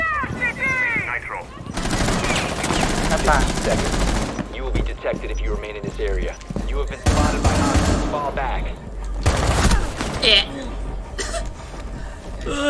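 Bursts of rapid automatic gunfire in the tactical shooter game Rainbow Six Siege, loud and close, coming in several volleys between excited talk and laughter from players.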